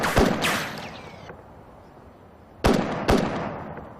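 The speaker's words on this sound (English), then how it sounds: "he fires at the ground." Rifle shots fired at the ground outdoors: two sharp cracks close together at the start and two more a few seconds later, each ringing out with a long echoing tail across open ground.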